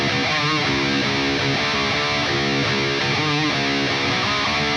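Heavily distorted electric guitar chugs through a slight variation of the bridge riff from a song, a loud continuous burst of power chords and muted hits with no voice.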